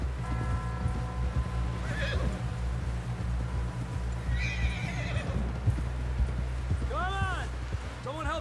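Horse in the video game Red Dead Redemption 2 giving a couple of loud, close whinnies amid a rhythmic clip-clop of hooves, with a low steady background hum throughout.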